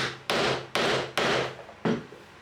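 Hammer blows drive tight dry-fit wooden joints together during a slab table glue-up, four sharp loud strikes at an uneven pace, each ringing briefly before the next, with no talk.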